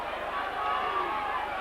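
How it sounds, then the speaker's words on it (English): Hull KR rugby league supporters packed beneath the commentary gantry at a Castleford v Hull KR match, a steady roar of crowd noise with clapping and cheering blending into a dense, continuous stadium din. "the noise is coming from underneath the gantry here, because that's where all the Hull KR fans are"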